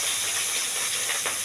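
Ground spice paste fries in hot oil in a wok, giving a steady, close, bright hiss that holds evenly throughout with no voices.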